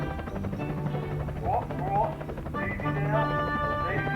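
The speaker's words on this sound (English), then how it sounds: "Then out of nowhere, Harold the helicopter arrived at the scene" A helicopter arriving in a redubbed Thomas the Tank Engine scene, a steady rotor drone with whining engine tones rising and falling, heard fairly close in a cartoonish mix.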